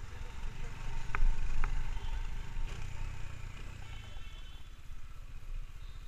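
A Bajaj Dominar 400 motorcycle, a 400cc bike, runs with a low engine rumble while downshifting, its pitch shifting as gears drop, with some clatter mixed in.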